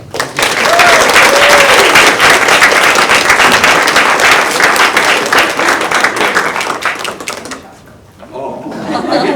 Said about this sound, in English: Let's also acknowledge with a healthy round of applause Jim Proctor and his faculty mentorship.